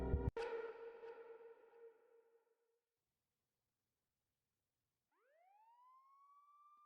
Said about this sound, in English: wakes up from the dream to the sound of police sirens